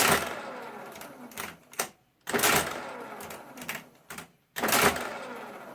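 Marchant mechanical calculator running in rapid clattering bursts, three main loud chattering runs separated by short pauses and small clicks, close and alone.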